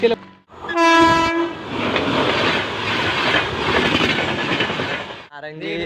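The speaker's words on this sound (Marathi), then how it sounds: "ट्रेन आलेली आहे आता" A train horn blares loudly, then a train rumbles past close by with a dense roar and rattling wheels, fading at the end as the horn sounds again.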